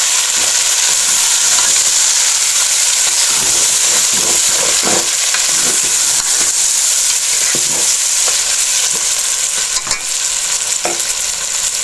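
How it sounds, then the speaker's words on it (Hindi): Chopped tomatoes are stirred into beef and potato curry frying in a pan, a loud continuous sizzle with repeated scraping stirs and soft clacks, no talking. "अब टमाटर को मिक्स कर लेंगे।"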